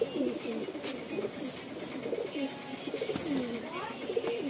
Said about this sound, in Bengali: এই যে পায়রাগুলো দেখছেন সব একই পেয়ারের বেবি